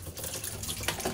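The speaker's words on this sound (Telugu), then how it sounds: "మామూలుగా నీళ్ళు వస్తున్నాయి" Tap water runs steadily in a broad splashing hiss as wheat flour dough is rinsed under a faucet, continuous and close for a short stretch without voices.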